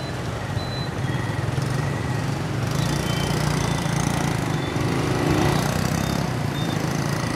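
A Brixton BX 250 Glanville motorcycle with a five-speed gearbox pulls away under throttle, its engine a steady, fairly loud drone blended with road and wind rumble, no voices.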